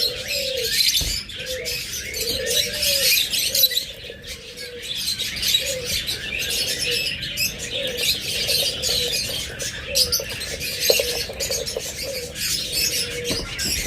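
Caged lovebirds and cockatiels in a bird shop chirp and call, with repeated mid-pitched warbling calls and bright chatter layered over a busy room background.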